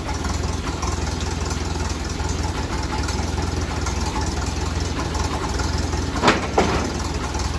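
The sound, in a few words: junkyard car engine running, put in gear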